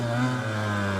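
Engine of a brand-new Yamaha YZ85 dirt bike running steadily and a little rich, a close, continuous mid-pitched drone with strong harmonic tones and no pauses.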